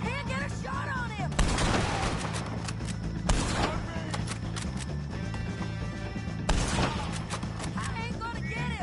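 Gunfire crackles through a shootout against the O'Driscoll gang in Red Dead Redemption 2, with dense bursts of shots and several heavy volleys standing out, while voices talk over the steady background of the fight.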